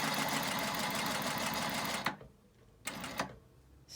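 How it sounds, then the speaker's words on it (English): A sewing machine runs a steady, continuous line of stitches along a ruler guide toward a center line on a jewel-style quilt block, then stops abruptly, followed by two short bursts as it adds a stitch or two. "I'm going to stitch up to the center line"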